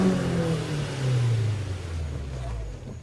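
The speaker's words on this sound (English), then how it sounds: "Always courtesy rev." Honda Civic Si EM1 engine revving close by, a steady low-pitched drone that swells around the middle and eases off toward the end, heard alone.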